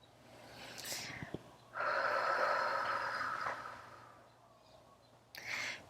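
A deep breath: a slow, audible inhale and exhale, soft and close, with brief breathy sounds before and after and no talking.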